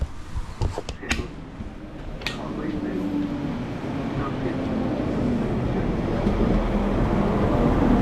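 A train rumbles steadily from inside the carriage, a low continuous drone building gradually, with a few sharp clicks and knocks at the start.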